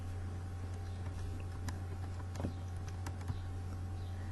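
Faint, close clicks of keys as a class name is typed on a computer keyboard, scattered irregular taps over a steady low electrical hum.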